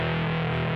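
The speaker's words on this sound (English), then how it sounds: "the fuzzy sound of preamp or pedal distortion is like tube screamer or whatever overdriver" Fuzzy preamp or pedal-style guitar distortion, like a Tube Screamer overdrive, programmed on a Sigma DSP ADAU1452 chip: a brief, buzzy, sustained note with a saturated, harmonically rich tone, heard alone.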